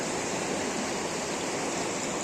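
Water pours and splashes in a steady, loud rush without pause as a homemade PVC pipe crab trap is emptied at a river.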